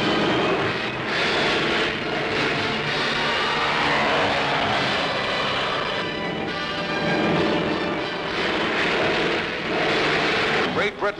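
Propeller aircraft of the Berlin airlift flying overhead, a continuous loud droning engine roar that swells and fades slightly, heard under a voice talking throughout.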